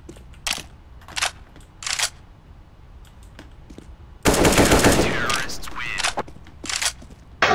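Video game shooter gunfire, bursts from an AK rifle with sharp single shots early on, then a sustained loud automatic volley, followed by more scattered shots.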